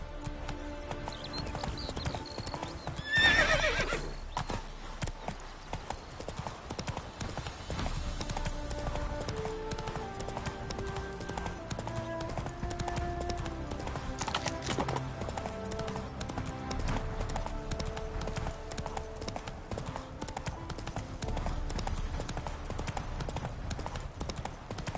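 Galloping horse in The Witcher 3 video game, with rapid hoofbeats running throughout under game music and a brief whinny-like burst near the start.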